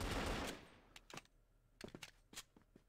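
Gunfire in a Free Fire video game match, with a loud burst at the start followed by scattered, fainter single shots and thuds spread through the rest.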